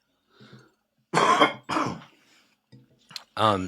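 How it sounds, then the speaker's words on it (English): Several harsh, forceful coughs in quick succession, close and loud, separated by short pauses with quiet breathing between them. "I need to cough really hard."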